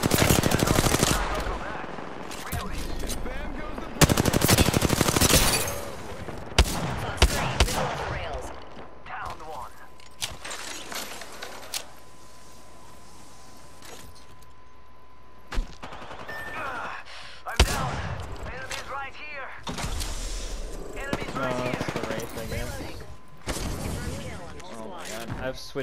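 Rapid automatic gunfire from the video game Apex Legends bursts repeatedly, loud and close, with bursts tapering into scattered shots and a game voice calling out between them.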